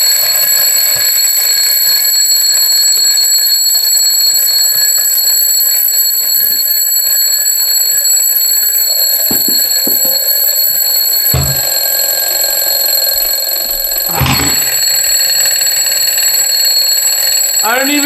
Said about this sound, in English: Why is there all these alarm clocks?